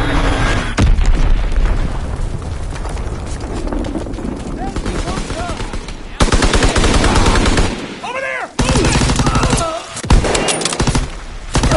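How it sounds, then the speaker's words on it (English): Dense, loud video game battle audio of bomb explosions and rapid gunfire, with booms and machine-gun bursts piling up continuously, plus shouted voices mixed into the chaos. "Enemy bomb incoming. Get to cover."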